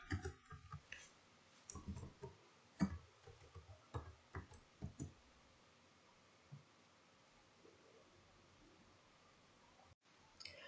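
A computer keyboard clicks as a postal code is typed, with a quick, irregular run of close key taps that fades into near silence.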